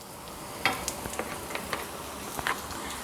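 Soya chunks fry with pepper powder and a teaspoon of coconut oil, a soft steady sizzle broken by sharp spatula taps and scrapes against the pan, close by and with no talking.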